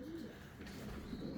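Uzbek pigeons coo softly in a low, murmuring rumble, faint and somewhat distant against a steady background hum, with no talk.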